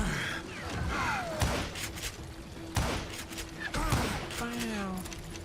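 Bursts of revolver and rifle gunfire crack out in several loud shots in the Western video game Call of Juarez: Gunslinger, mixed with game effects and a voice talking over the action.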